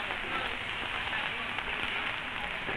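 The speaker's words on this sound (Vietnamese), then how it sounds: "Hôm nay là một ngày mưa." Steady, dense hiss of rain falling on a surface, even and continuous throughout, at the Bắc Hà market in Lào Cai, Vietnam.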